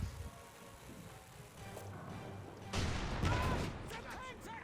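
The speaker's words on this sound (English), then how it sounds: "sniping away with the 75mm gun" A 75mm tank gun fires in the World War II strategy game Company of Heroes 2, a loud booming shot around the three-second mark amid battle noise and faint background commentary.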